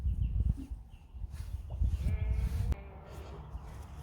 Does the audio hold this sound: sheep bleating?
yes